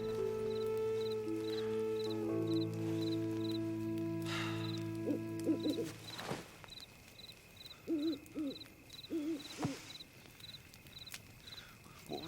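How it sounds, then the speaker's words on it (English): An owl hoots several times out in the night wilderness, soft and somewhat distant, following a fading musical drone, with faint rustling footsteps nearby. "It was an owl."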